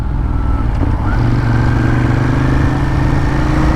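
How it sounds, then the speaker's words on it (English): A motorcycle engine hums steadily and close, with a faint drop in pitch as the throttle eases off during braking and no one speaking. "whenever you brake, you want to back off the throttle, pull on the brake"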